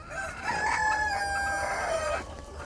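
A brooding hen sitting on eggs gives a single loud, drawn-out call lasting nearly two seconds, close by and alone.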